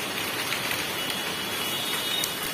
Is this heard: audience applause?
no